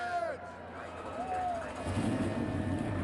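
Race car engines in a racing sim game start up and settle into a low rumble for the short-track race at Martinsville, preceded by rising whine-like tones and a fuller idle that swells toward the end.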